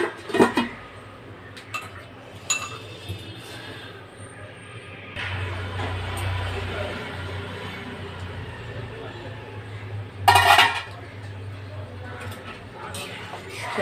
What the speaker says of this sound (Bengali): ঢাকা দিয়ে দিই, ঝোলটা একটু ফুটে যায়।